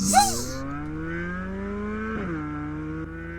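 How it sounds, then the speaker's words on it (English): A car engine with a flat-plane crank revs up in BeamNG.drive in a rising whine, holds a high steady pitch, then dips briefly and climbs again, loud and synthetic-sounding. "Dude, you hear how fast that thing revs?"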